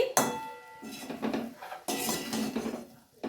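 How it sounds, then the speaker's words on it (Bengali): Chicken chowmein being mixed in a pan, with a utensil scraping and clattering against the metal in irregular strokes, moderately close, and no voices. "ভালো করে এটা মিক্সড করে দিচ্ছি"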